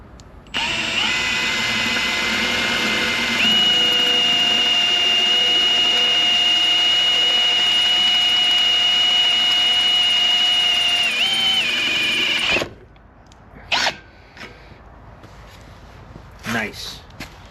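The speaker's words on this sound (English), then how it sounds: "And drill it out." A loud, steady high-pitched whine of a 7/16 drill bit enlarging a hole in a Barbie Jeep axle tube runs for about twelve seconds, pitch shifting slightly near the end, then stops, followed by a few clinks and handling noises.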